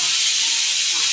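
Steam hisses steadily from a pressure cooker whistle in a home kitchen, a continuous bright, airy rush that holds unbroken and fairly loud throughout the short moment.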